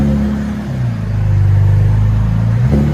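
A Cadillac CTS 3.6-liter V6 with its mufflers and resonator cut off gives one loud, close rev: a deep rumble that climbs, holds, then drops back toward idle.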